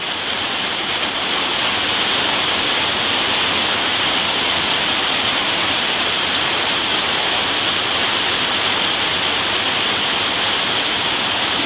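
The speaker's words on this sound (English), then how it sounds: "Here comes the rain." Steady rain falls outdoors during gearbox repair work, a constant dense hiss of drops with no break, heard alone without talk.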